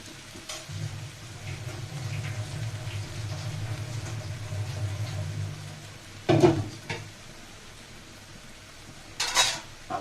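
Yardlong bean and potato curry is stirred in a pan, a low, soft frying rumble under two sharp metallic clinks of a spoon against the pan, close, no talk.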